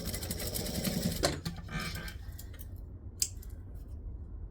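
A sewing machine stitches fabric toward a fold, a short rapid mechanical run that stops abruptly, followed by quieter handling rustles and a single sharp click, close and fairly soft.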